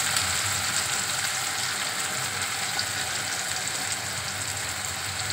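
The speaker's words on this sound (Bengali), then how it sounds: "আলুটা একটু ভেজে নিই" Potatoes frying in a pan, a steady, loud, close sizzle of oil that holds evenly for the whole stretch without a break.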